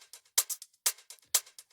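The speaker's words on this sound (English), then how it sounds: "And then we got a standard hi-hat" A standard hi-hat sample from a house beat ticks alone in a quick, uneven pattern of crisp bright hits, with stronger accents roughly every half second and softer ghost ticks in between.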